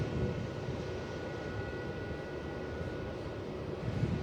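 Jetstar airliner passing at Melbourne Airport, a steady broadband engine roar that holds loud throughout and swells slightly near the end, with no talk over it.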